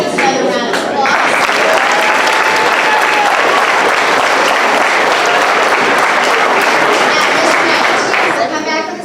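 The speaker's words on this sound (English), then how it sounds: "Give these students another round of applause" Sustained, loud applause from a school audience honoring eighth-grade students at a middle school academic awards ceremony, dense steady clapping filling the room for about nine seconds with faint voices mixed in.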